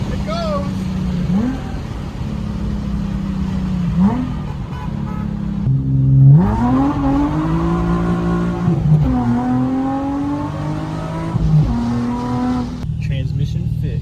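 A drift car's engine revs up and down repeatedly, rising and falling in pitch with brief lulls between gear changes, loud and close, with voices talking over it at times.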